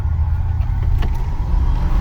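1979 Cadillac Coupe de Ville engine running as the car moves forward in drive, a loud low rumble held steady and close, with no talk.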